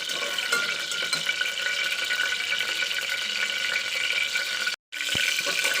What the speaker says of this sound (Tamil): ஒரு கொஞ்சோண்டு ஜீரகம், 2 பட்டை, ஒரு கொஞ்சோண்டு கற்பாசி இதை போட்டு நம்ம வதக்கிக்கலாம்